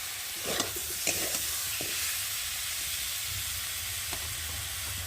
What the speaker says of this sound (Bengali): দিয়ে ভালো করে মশলাটা কষিয়ে নেব। আর দেবো এখানে একটা পেঁয়াজ বেটে নিয়েছি, সেই বাটা পেঁয়াজ।